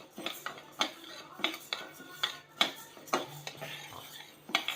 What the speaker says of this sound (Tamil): இது மிதமான தீ வச்சுட்டு வறுத்துக்கோங்க. கொஞ்சம் பொறுமையாக வறுத்துக்கோங்க.